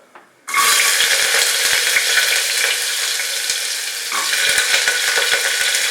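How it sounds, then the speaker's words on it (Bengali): Chopped carrots hit hot oil in a frying pan for veg pulao, and a loud, steady sizzle bursts up from silence. It keeps frying under light stirring clicks and scrapes, swelling again toward the end. "ছোট ছোট টুকরো করে কেটে রাখা গাজর দিয়ে দিলাম।"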